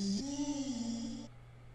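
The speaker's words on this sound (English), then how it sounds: "this vocal line, which are some chopped up samples that come from, again, Black Diamonds 2" Chopped vocal samples from Black Diamonds 2 make a short, faint sustained vocal line that steps between a couple of pitches and then cuts off, heard alone.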